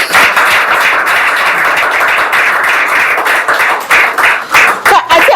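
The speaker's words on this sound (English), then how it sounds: "I expected an applause." Audience applause fills a live talk-show stage, a dense, steady wash of clapping that runs loud and close throughout before thinning into scattered claps near the end.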